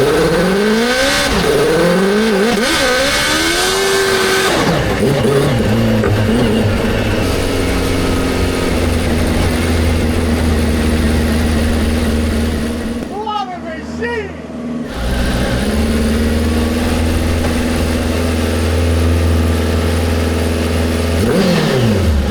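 Close inside a supercharged H2 Mini on its first drive, the engine revs up and down through gear changes with a rising and falling whine, loud and steady throughout, and voices chatting over it.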